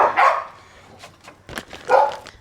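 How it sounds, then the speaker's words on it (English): Dogs bark in an off-grid Australian kitchen, two loud yapping bursts at the start and end with softer yips and rustles between, fairly close by. "oh my goodness, the dogs"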